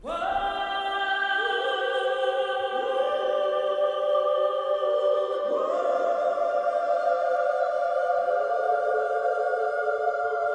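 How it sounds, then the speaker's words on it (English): A synthesized choir-like vocal patch from the Voices of Soul sample library plays sustained, layered chords that shift every second or two, a dark, steady pad texture with no other sounds. "I added this crazy vocal patch, which is from the play Voices of Soul, and it sounds like this."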